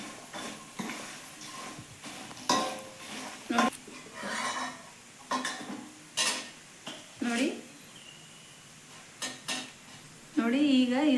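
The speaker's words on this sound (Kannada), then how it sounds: "ನೋಡಿ ಈಗ ಇದು ಮಂಡಕ್ಕಿನ ಹುರಿದಿಟ್ಕೊಂಡಿದ್ವಲ್ಲ, ಚೆನ್ನಾಗಿ ಕಾಲದಲ್ಲಿ ಹಾಕಿ ಕಲಿಸ್ಬಿಡೋದು" Roasted puffed rice (mandakki) is stirred into hot chilli-fried oil in a pan for North Karnataka garam mandakki, with intermittent scraping clinks of a spoon against the pan, close by, and someone talking in between.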